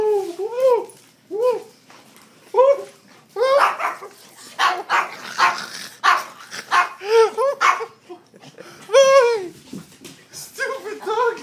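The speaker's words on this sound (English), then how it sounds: "Stupid dog!" A dog barks and yips repeatedly in loud, close bursts with an excited, uneven rhythm, mixed with whimpers and some human talk.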